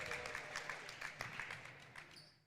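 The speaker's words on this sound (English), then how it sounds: "And Ava Fahrenholz comes out to a nice applause and greeting from her teammates." Faint applause and crowd noise in a gym at a girls high school basketball game as a player comes off the court, a soft, distant wash of clapping that fades toward the end.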